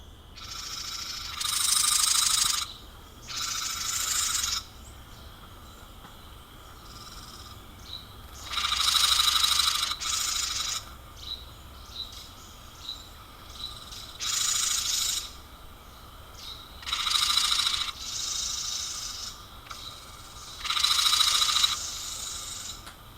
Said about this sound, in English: wren mobbing calls.